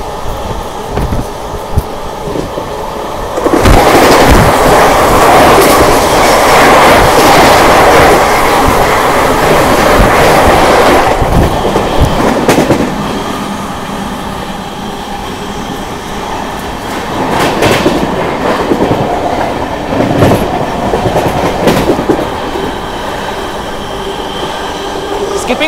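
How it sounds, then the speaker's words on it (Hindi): Vande Bharat Express on the Anand Vihar Terminal–Ayodhya route rushes past a moving train, a loud sustained roar with rattling wheel clatter and occasional clanks that eases to a steady rumble. "अभी सामने से आ रही है 22/4/26 आनंद विहार टर्मिनल अयोध्या वंदे भारत एक्सप्रेस"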